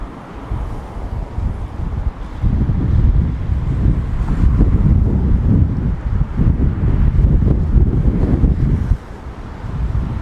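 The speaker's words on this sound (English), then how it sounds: "This wind is picking up." Strong wind gusting outdoors in downtown Toronto on a cold day, a loud roaring rumble buffeting the microphone that swells and eases, with a brief lull near the end.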